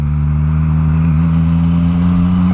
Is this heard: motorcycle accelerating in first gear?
yes